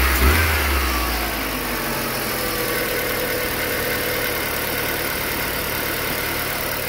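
A Mk4 car engine runs loud and close, a steady idle with a brief rev right at the start, then a constant mid-pitched rumble throughout.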